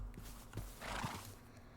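A horse in the video game Minecraft gives a short, quiet whinny, with a few soft hoof clops around it, over a low steady background hum.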